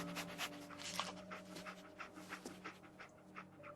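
Dogmeat, the dog companion in Fallout 4, pants in quick rhythmic breaths close by over a quiet game background, with no talking.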